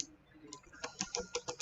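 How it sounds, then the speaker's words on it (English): Typing on a computer keyboard, a short run of distinct key clicks that quicken into an irregular rhythm, close and fairly quiet. "So I am typing"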